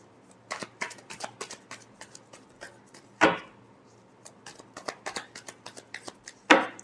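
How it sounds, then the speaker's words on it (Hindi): Tarot cards are shuffled by hand up close, with quiet, irregular papery riffles and taps and a couple of sharper snaps, at low volume with no speech. "Last shuffle."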